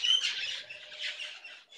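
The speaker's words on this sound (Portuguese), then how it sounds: "Tá passando uns passarinhos aqui" Small birds chirp as they fly past, giving a quick run of bright, high tweets for under two seconds, fairly close and alone against a quiet background.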